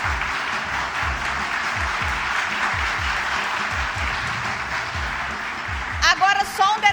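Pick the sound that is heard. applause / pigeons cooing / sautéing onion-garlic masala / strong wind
applause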